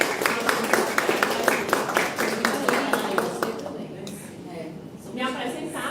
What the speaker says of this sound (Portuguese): pedir uma salva de palmas para essas duas bandeiras